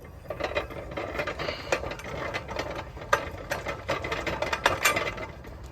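An electronic exercise cycle in a gym runs with a busy mechanical clatter of gears and ratcheting parts, fairly close and continuous, with no talking.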